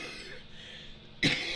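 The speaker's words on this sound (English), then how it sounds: "oh, I'm gonna start coughing" A single short, sharp cough bursts out near the end after a quiet, hissy pause, close to the microphone.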